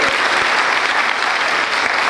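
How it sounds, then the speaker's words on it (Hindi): An audience at a Brahma Kumaris spiritual gathering bursts into steady, dense applause, a close and loud wash of many hands that continues without a break and with no voices over it. "तालियां तो चाहिए।"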